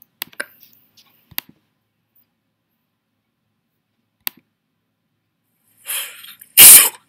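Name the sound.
a person sneezing, in a played video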